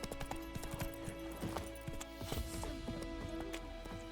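Horse galloping in The Witcher 3 video game, with fast rhythmic hoof clip-clops and a brief whinny over a continuous game soundscape.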